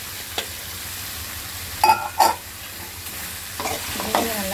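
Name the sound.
radish sautéing in a pan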